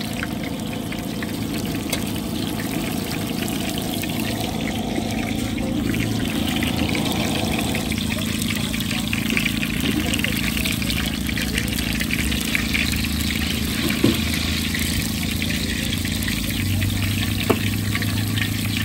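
Cooking oil keeps sizzling in a pan after sprinkled water, a steady crackling hiss with watery trickling, while a person talks quietly over it.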